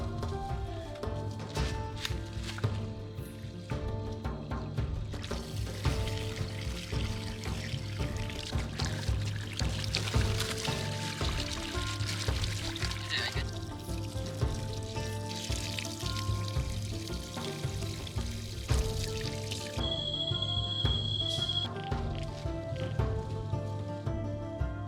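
Cooking ingredients are rinsed in a forest river, with close water pouring, splashing and trickling continuously as hands work through the food, steady and moderately loud, with no talking.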